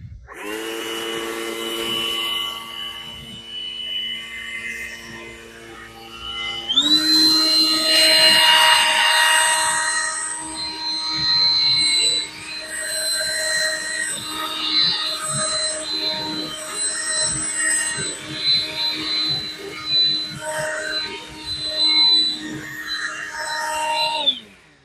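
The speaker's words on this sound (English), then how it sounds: "now we're gonna go ahead and use a leaf blower" A leaf blower drying a freshly washed and protected car wheel and tire, starting with a steady whine that jumps up sharply in pitch and volume as it revs, then roars on continuously and close by.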